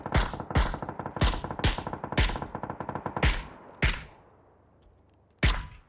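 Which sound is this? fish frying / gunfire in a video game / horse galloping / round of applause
gunfire in a video game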